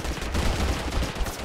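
Dense, loud gunfire from a video game sniper rifle fills a short burst of roughly a second and a half, with no speech over it.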